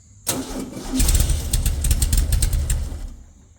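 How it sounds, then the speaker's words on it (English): Starter motor cranking an engine that has an old fuel puddle and a choke, a loud, continuous whirring crank lasting about three seconds with rapid rhythmic pulses, then fading out. "This is my starter. See what it does."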